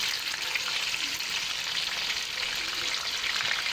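Mutton chapli kababs fry in oil over a low flame, giving a steady, dense sizzle with fine crackling that runs evenly throughout, close and fairly loud, with no talk.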